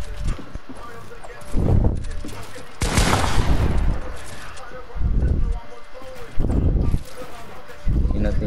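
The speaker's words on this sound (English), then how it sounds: "I hear gunshots." Gunfire in a 2v1 wager video game match, sharp shots recurring at intervals amid a busy, noisy mix, with horse-like clip-clop rhythms and voices talking over it.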